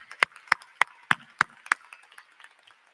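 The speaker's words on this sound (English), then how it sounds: "Graduates, let's give our faculty a big round of applause." Graduation commencement audience at a university clapping for faculty, heard as a series of six sharp, evenly spaced claps roughly every third of a second, followed by softer scattered claps fading out.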